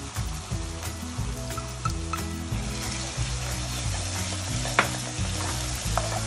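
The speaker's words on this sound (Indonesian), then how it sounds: "Kita tumis ni sampai besar minyak." Spice paste with lemongrass is stirred and sautéed in oil for a Malaysian ayam masak kerutuk, a loud close sizzle broken by repeated scraping stir strokes in a steady rhythm, with no talking.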